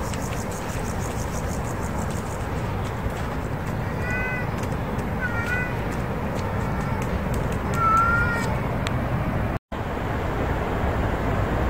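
A stray cat gives a few short, thin meows over steady outdoor background noise, fairly distant, with several calls spaced across the stretch and no talk.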